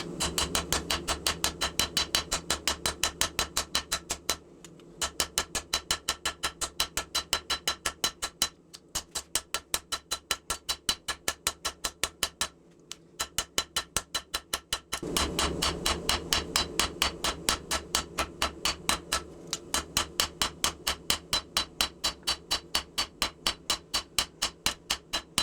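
Steady, rapid hammer blows ring out on a 1-inch-thick piece of 5160 coil spring steel being hand forged into a knife, a long near run of sharp metallic strikes with a few brief pauses between heats.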